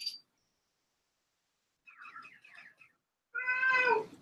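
A pet cat meows indoors: a brief high squeak, then a soft broken mew, then one long, clear, close meow at the end, with no speech.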